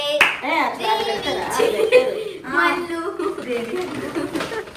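Family members clap for a birthday celebration with a pineapple cake, the clapping mixed with talk and chuckling throughout the short stretch.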